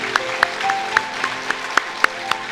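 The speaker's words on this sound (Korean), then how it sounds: "우리 박수로 한번 격려하겠습니다" A church congregation at a Korean Sunday service claps in a steady, even beat, about ten close claps over a quiet background with a faint held musical tone.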